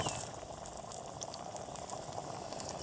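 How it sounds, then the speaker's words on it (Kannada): Mustard seeds splutter in hot oil for a tempering meant for a dry fish curry, producing a dense, steady frying hiss and crackle, close and constant with no talk. "ಇವಾಗ ಸಾಸಿವೆ ಚಿಟ್ಲ್ತಾ ಐತೆ."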